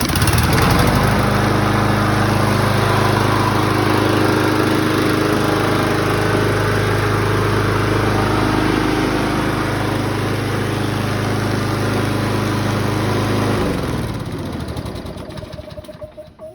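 A Toro Personal Pace self-propelled lawn mower, repowered with an auto-choke engine, runs loud and steady close by, then shuts off and winds down to silence near the end.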